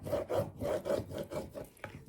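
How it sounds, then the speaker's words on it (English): Burnishing a transfer onto a mixed media gallery wall tile makes close, rhythmic rubbing strokes, about eight quick back-and-forth scrapes in steady succession. "I'm just going to initially burnish the whole transfer on"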